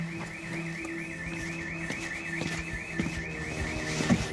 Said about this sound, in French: Première intervention dans une propriété dont l'alarme vient de se déclencher.